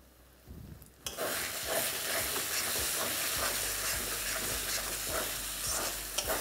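After a quiet second, a loud, continuous sizzle of frying spices in a pan starts up, with a utensil scraping and stirring through it in repeated strokes; Kashmiri chilli powder, coriander powder and cumin powder are being mixed for a vegetarian dinner dish.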